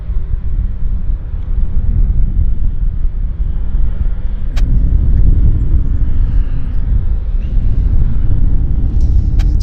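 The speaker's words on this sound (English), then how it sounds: "this is WestJet Q400 just arrived from Victoria." A WestJet Q400 turboprop just arrived at Vancouver airport from Victoria rumbles as a steady low engine drone with wind buffeting, heard from outdoors at a moderate distance, with no talking.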